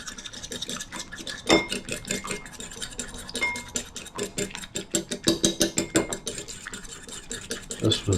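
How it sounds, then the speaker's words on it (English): Cheap store-bought eggs being whisked in a bowl, a close, rapid, rhythmic clatter of the whisk against the sides that continues steadily throughout with no speech. "Gonna whisk those up."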